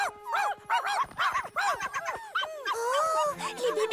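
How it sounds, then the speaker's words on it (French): Cartoon puppies bark and whimper in an animated children's show, a rapid string of high yips and squeaky whines that peaks and dips in loudness, followed by a brief softer passage at the end. "Oh, les bébés chiens sont rentrés."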